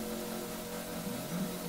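Ford Fiesta ST with a 1.0 or 1.2 litre inline-three turbo engine, revving in a racing video game, a steady buzzing drone that holds close and fairly loud, with no talk over it.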